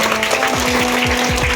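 Students at a school election at Akshara School in Piduguralla clap their hands in applause, a dense, steady patter of many hands close by with a faint sustained tone underneath.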